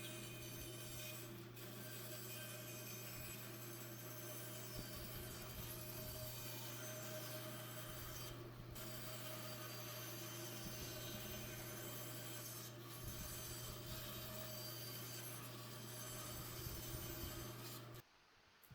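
Hand saw cutting wood for a homemade mallet, a long run of close, steady rasping strokes with a few brief pauses, ending abruptly, no talk.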